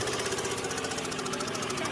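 A turbocharged tricycle engine runs loud and close, a rough continuous rhythmic knocking drone with steady chugging pulses and no pauses.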